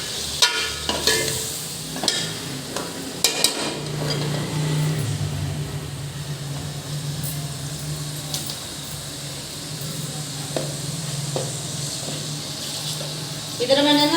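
Onions frying in oil while being stirred in a pan for chicken karahi: a steady sizzle with a low hum beneath and occasional scraping knocks from the spoon, alone with no talk.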